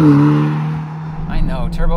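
A Ferrari Portofino M sports car with a turbocharged engine drones steadily and fairly loud, its tone shifting slightly as it drives, with voices starting to talk near the end.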